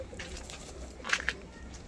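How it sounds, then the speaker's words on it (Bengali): A pair of pigeons, male and female, held in hands, coo softly a couple of times nearby, short low murmuring calls against a quiet background. "শখের পায়রা নিয়ে এসেছি হাতে হাতে দেখুন দুটো আছে"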